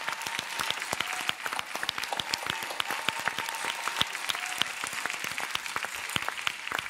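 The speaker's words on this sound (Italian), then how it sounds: "Grande applauso a Michele Rex Zero Calcare e a Lele, direi." Studio audience applause for Zerocalcare and Lele on an Italian talk show, many crisp individual claps close by in a lively, even stream.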